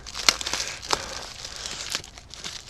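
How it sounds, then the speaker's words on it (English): Packaging around an egg incubator shipped from China is unwrapped by hand, giving sharp plastic crinkles and rustles in short bursts, with a few louder crackles among softer continuous handling noise, close up. "Doug's giving me a hand here because Doug's really good at help unwrapping things"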